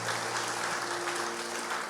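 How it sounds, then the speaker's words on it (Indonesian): Congregation applauding during a Sunday church service, a dense, steady wash of clapping from many hands filling the whole stretch at even loudness, with a faint sustained musical tone underneath. "Tepuk tangan sekali lagi bagi Tuhan Yesus saudara."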